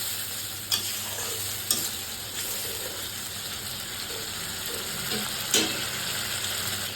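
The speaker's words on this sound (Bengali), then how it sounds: "আদা জিরা বাটা আর মশলা বাটা জল একটু দিয়ে দিলাম, অল্প একটু দিয়ে একটু কিছুক্ষণ কষাবো" Ginger-cumin paste and ground spice paste with a splash of water sizzle steadily in a pan for a pabda fish curry, a continuous close frying hiss broken by a few stirring clicks.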